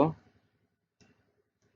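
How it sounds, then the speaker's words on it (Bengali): Two mouse clicks while setting up a WordPress site, a sharp near click at the start and a fainter one a second later, with silence around them. "এরপরে সাইট অ্যাডমিন এখানে ক্লিক করব"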